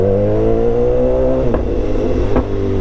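A BMW S1000XR motorcycle engine revs loudly and close, a sustained high mechanical whine that climbs and drops, with two sharp throttle blips cutting through near the end.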